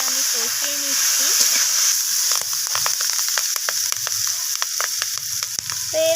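Ground spices, including cumin powder, stirred and fried in a pan for a spinach and cauliflower-stalk chorchori: a steady close sizzle with scraping stir strokes, and a faint voice briefly at the start and end.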